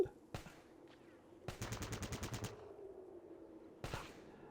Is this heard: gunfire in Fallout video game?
yes